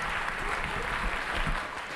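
Audience applause at a graduate ceremony, a steady, dense patter of many hands clapping in a hall, moderately loud and continuous throughout.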